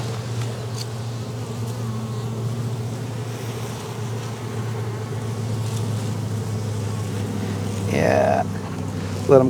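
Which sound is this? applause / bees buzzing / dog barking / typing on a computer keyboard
bees buzzing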